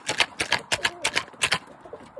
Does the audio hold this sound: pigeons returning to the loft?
yes